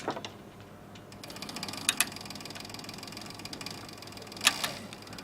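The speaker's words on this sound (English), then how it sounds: "heavy duty leather sewing machine." A mechanical, rattling hum of a Cobra Class 4 heavy-duty leather sewing machine stitching steadily with number 277 nylon thread, with a couple of sharper clicks and ticks standing out along the way.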